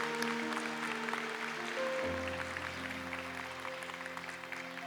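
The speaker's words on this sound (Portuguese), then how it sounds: "Pode aplaudir, é isso que a palavra é" A church congregation claps during a sermon, a steady patter of many hands filling the room under a sustained organ or keyboard chord that shifts midway, moderately loud and without voices.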